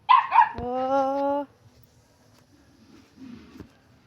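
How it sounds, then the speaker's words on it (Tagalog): Dogs bark close by on a muddy path, a burst of sharp yips and barks opening the moment, then a quieter stretch with faint rustling and a brief spoken exclamation. "Ang daming mga aso dito, mga lodso."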